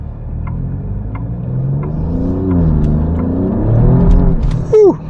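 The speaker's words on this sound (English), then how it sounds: "Let's open it up a little bit so we can hear that V6 wail a little bit" Alfa Romeo Giulia Quadrifoglio V6 wailing loudly under hard acceleration from inside the car, engine pitch sweeping upward through several gear changes, then a brief burst near the end.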